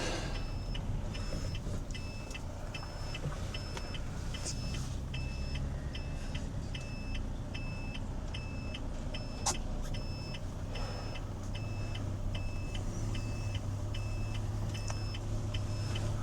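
A vehicle engine idles and rumbles steadily in first gear while slowing, a low continuous drone with a repeating high electronic beep pattern and occasional clatter, outdoors at a park mulch pile.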